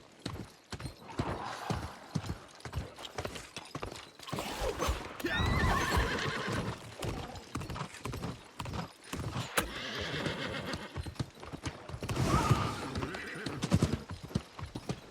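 Steady clip-clop of a mount's hooves while riding along a road in the game New World, with a couple of neighs and whinnies; close, rhythmic, continuous, no talk.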